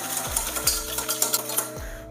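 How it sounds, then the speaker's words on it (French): Rapid metallic scraping and clinking of a whisk against a saucepan, beating egg and sugar in quick rhythmic strokes with a few louder knocks. "on verse un œuf dans une casserole avec le sucre. Et là, on vient blanchir vigoureusement"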